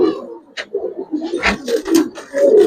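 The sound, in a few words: pigeons cooing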